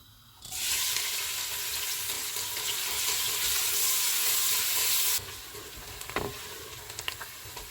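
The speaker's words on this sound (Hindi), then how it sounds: "प्याज डालेंगे, इनको गोल्डन फ्राई करेंगे" Onions dropped into hot oil with whole spices (green and black cardamom, cloves, sugar) burst into a loud, steady sizzle, then ease to a quieter crackle with a few stirring clinks near the end.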